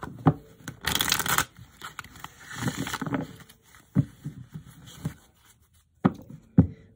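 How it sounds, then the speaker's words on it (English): Tarot cards are shuffled by hand during a reading, with a brisk riffling burst followed by softer shuffles, taps and rustles spread across the clip, close and fairly quiet. "One more shuffle."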